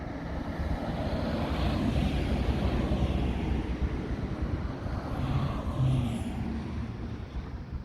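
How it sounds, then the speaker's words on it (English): A French Bee airliner taxis at Orly airport in Paris, a steady broad engine roar with wind noise that holds constant and swells slightly, heard at a distance with no talk. "That Frenchbee taxiing towards the parking bay, going to other side where the other Frenchbee's aircraft are parked"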